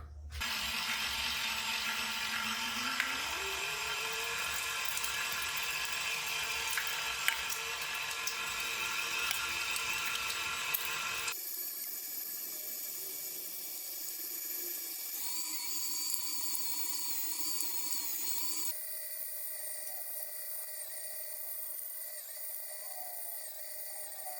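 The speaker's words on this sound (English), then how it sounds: "we're just gonna go ahead and get started grinding this through" Electric meat grinder coarse-grinding pork or venison for maple breakfast sausage, a continuous high mechanical whine with rattling gears that shifts pitch as the load changes, loud and alone throughout.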